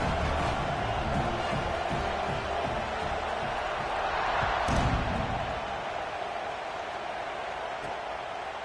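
Stadium crowd noise from an NCAA 26 college football video game, Michigan State at Oklahoma State, a broad steady roar that swells briefly near the middle before settling to a lower murmur at kickoff.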